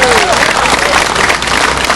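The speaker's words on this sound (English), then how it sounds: "let's give Mike another round of applause" Loud, dense audience applause at a town bicentennial celebration in Canton, Illinois, continuous clapping filling the space with some crowd voices mixed in.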